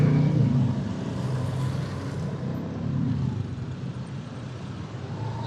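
Traffic backed up at a red light in Purbalingga, a loud blend of car and motorbike engines close by, swelling and easing as vehicles creep and rev, without talk.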